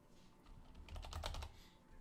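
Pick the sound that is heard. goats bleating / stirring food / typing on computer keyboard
typing on computer keyboard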